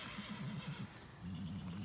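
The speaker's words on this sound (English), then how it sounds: "That's my horse Mayday here." A horse whinnies in the background near a tractor yard. The neighing is faint and distant, in two wavering bursts lasting under two seconds, with no talk.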